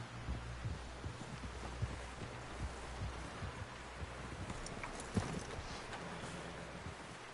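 Horse hooves clip-clopping in the video game Red Dead Redemption 2, a steady, fairly quiet rhythmic thudding of footfalls over a dense low rumble of background ambience, with no talk.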